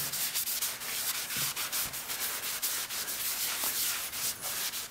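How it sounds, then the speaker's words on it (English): Cloth soaked in paint thinner wiped across a freshly turned wood surface, a steady close scrubbing rub that runs alone throughout with repeated strokes. "I'm going to just take some paint thinner, just to be safe here. Clean this surface off."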